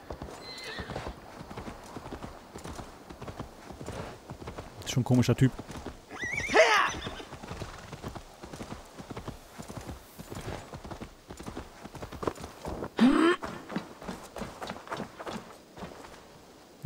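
In Assassin's Creed Valhalla, a horse's hooves clip-clop steadily with several whinnies and neighs cutting through, while someone talks over the game sounds.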